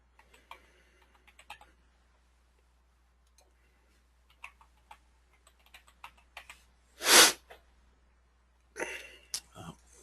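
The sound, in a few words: typing a password on a computer keyboard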